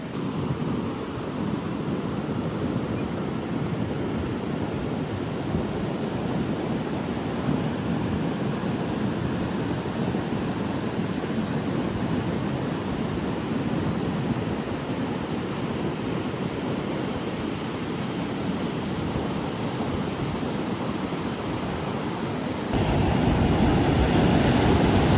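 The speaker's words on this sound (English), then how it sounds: "The waves are huge today." Large ocean waves breaking on the shore, a constant loud wash of surf mixed with wind noise over the microphone, growing louder and harsher near the end, with no one talking.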